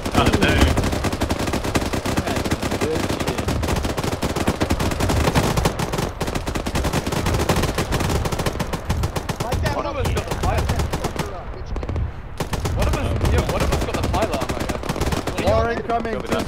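Dense, rapid automatic gunfire during a military joint operation, loud bursts of machine-gun fire crackling almost continuously, with brief pauses and shouting voices mixed in.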